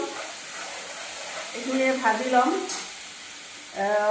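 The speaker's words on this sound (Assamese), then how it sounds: "সৰিয়হখিনি মছলাখিনি মই ভাজি ল'ম।" Mustard, ginger and garlic paste sizzles and crackles steadily in hot oil, with stirring scrapes and a person talking over the frying.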